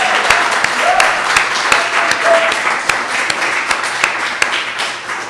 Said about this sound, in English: could we just have a round of applause for Jennifer Harris and the other...